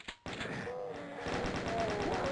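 A chaingunner in the Doom map Spyro the Doom Map07 fires a rapid, continuous burst of machine-gun shots after a brief lull, loud and steady to the end, with other game noise beneath.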